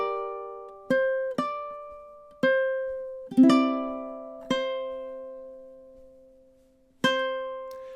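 Ukulele picking a short sequence of chords from the MASH theme, about seven separate strums and plucks at uneven intervals, each ringing and fading, soft and close with no voices.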